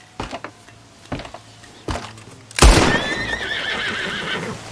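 Hooves thud a few times, then a horse in the video game Red Dead Redemption 2 gives a loud, close, drawn-out whinny that trails off.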